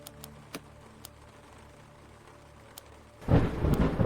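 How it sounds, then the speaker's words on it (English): Rain patters against manor windows during a thunderstorm, first as faint scattered drips and ticks, then a loud rumbling burst of thunder and heavier rain swells up near the end. "listen to the rain pitter-patter on the windows at the Highrook estate"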